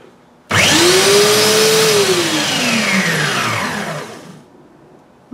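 An electric drill fitted with a sanding attachment switches on abruptly and whirs loudly for about four seconds, its pitch sagging then dropping off as it winds down, with a faint click at the end.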